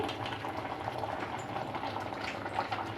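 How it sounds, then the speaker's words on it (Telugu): Rice simmers at a steady rolling boil in a pot of water for a biryani, a continuous bubbling wash of moderate loudness with no breaks and no talking. "బియ్యం అయితే నాకు ఉడికింది"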